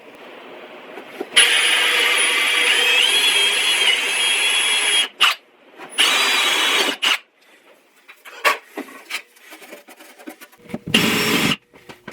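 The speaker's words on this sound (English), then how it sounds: "I just drilled a matching hole for the wire and fed them through." A power drill bores a hole for a light wire in reclaimed wood for a rustic pool table light, one long loud whirring run followed by a shorter burst, then brief scraping and knocking sounds.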